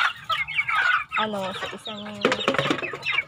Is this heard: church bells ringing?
no